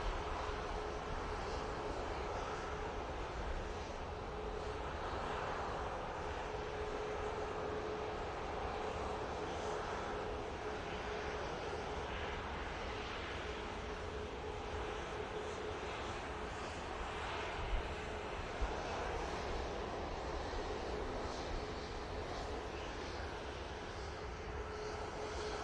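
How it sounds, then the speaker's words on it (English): A Jet2 Boeing 737 airliner departs Manchester Airport with a continuous, even engine roar that holds steady for the whole stretch. There is no talking. "Next out will be that Jet 2 in the .com livery that we just saw, the 737,"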